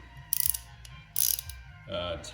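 A ratchet clicks as it loosens 10 mm bolts on the battery box of a Honda Rebel 250 motorcycle: two quick bursts of close, fast clicking, then a steadier mechanical rasp.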